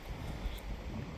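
Wind gusting across an allotment garden plot in June, buffeting the microphone with a low, steady rumble and faint rustle, with no voices present.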